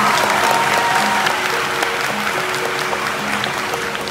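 A crowd at a Red Shirt movement gathering applauds continuously, a dense even wash of many hands clapping with occasional sharper claps, loud and sustained throughout.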